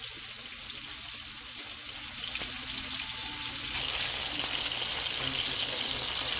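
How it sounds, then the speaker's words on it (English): Steak searing in a hot pan for a family Sunday dinner, a steady broadband sizzle that holds evenly throughout and grows a touch fuller toward the end, close and with no talking. "we're going to sear this up on both sides"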